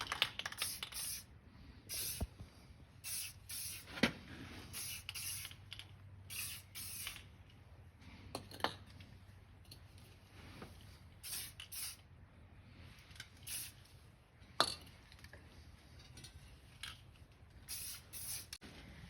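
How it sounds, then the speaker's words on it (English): Spray paint hisses onto the PTO shaft of a 1952 John Deere B tractor in short repeated bursts of varying length, with quiet pauses and faint handling noises between them. "now we're gonna get the PTO shaft painted"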